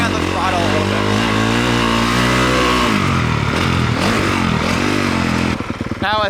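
A dirt bike engine revs hard near the mic, holding a high pitch before the rider lands a jump on the throttle, with the note dipping and surging in quick swells before a rattling close.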